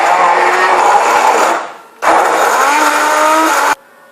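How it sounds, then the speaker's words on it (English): A kitchen blender whirs loudly, blending green sauce ingredients for pork in green sauce in two close bursts, the motor winding down briefly between them. "And then we're going to get the blender and you're going to blend it."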